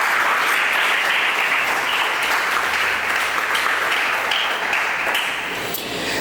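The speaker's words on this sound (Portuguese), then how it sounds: "Dá um aplauso a Jesus aí por essa família." A church congregation applauds loudly and continuously, a dense wash of clapping that holds steady and eases off slightly at the end.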